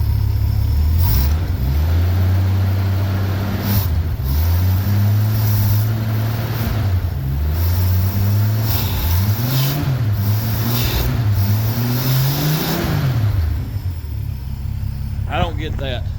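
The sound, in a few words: Ford Fairmont engine revving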